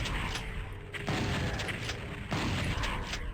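Enemy gunfire in Doom 64 Retribution: several heavy, booming shots land at uneven intervals over a steady wash of in-game noise and mechanical rumble.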